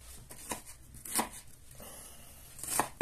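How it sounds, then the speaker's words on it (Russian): A knife chops an onion on a cutting board in a few sharp, uneven strikes, close and moderately quiet. "Нарезаю лук."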